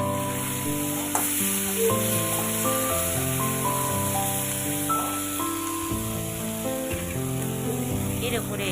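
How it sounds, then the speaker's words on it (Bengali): Fish head masala fries in oil in a pan while being stirred, a steady, close sizzle running continuously beneath a layer of tonal background music. "ভালো করে কষিয়ে নেব। যতক্ষণ না তেল ছাড়ছে ততক্ষণ করে আমি কষাবো।"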